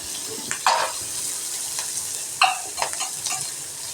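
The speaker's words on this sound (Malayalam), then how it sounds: "നമുക്കത് നല്ലോണം കിണ്ടി കൊടുക്കാം" Green chili, almonds and raisins sizzle softly in a pan while being stirred, with a few scraping strokes of the spoon standing out over the quiet frying.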